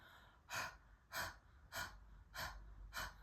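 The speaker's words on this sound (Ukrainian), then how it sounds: "Ми з вами будемо робити дуже активне дихання через рот." Forceful mouth breathing during a breathing exercise practice, five sharp rhythmic breaths spaced about two-thirds of a second apart, close and alone with no talking.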